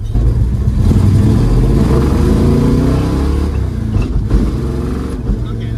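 Plymouth Valiant A-body V8 revving after its throttle cable adjustment, a loud close rumble that climbs and falls in pitch, with a voice talking over the engine.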